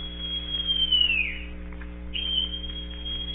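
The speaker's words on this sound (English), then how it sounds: "Then Silver brought out a whistle." In a radio drama of Treasure Island, a shrill whistle blows a long, high tone that slides downward, pauses, then sounds again, over a steady low hum.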